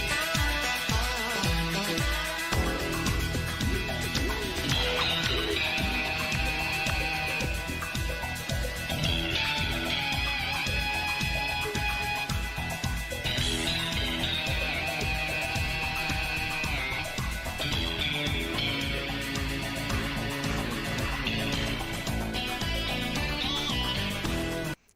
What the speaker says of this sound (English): here's the bit of this Cocaine Cowboys soundtrack that I had in mind when I was making this sound